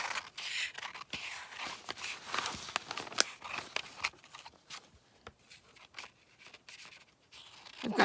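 Scissors cutting a picture out of a book page for a postcard collage, with quiet, irregular snipping and paper rustling close by, faint and continuous.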